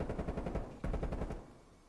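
Rapid automatic gunfire from a Call of Duty League 2021 esports match rattles in a quick, even burst of about a dozen shots, fairly quiet and alone.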